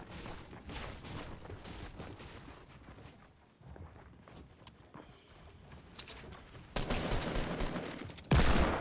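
Desert Eagle gunfire in the video game Fortnite, a flurry of quiet, sharp shots scattered through the stretch and then a louder burst of rapid fire near the end.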